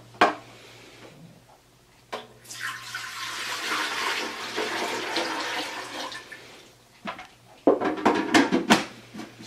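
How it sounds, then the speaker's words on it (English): Water pours steadily from the dispensing lid of an Aquasana powered water filtration system into a container, a continuous rushing stream lasting several seconds, framed by short clicks and handling knocks before and after. "this lid will dispense water"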